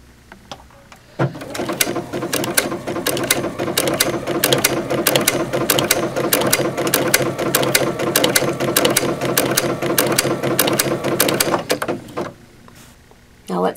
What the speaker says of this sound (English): I want to stitch on this forward angle.